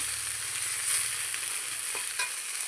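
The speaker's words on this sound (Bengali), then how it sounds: "এবার মাছটা ভাজছি" Hot oil sizzles continuously as fish fries, a steady crackling hiss with a few brief clinks and pops near the end.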